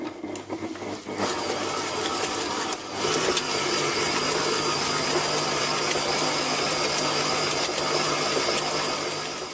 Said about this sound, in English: Now just mix or beat this in until it's smooth.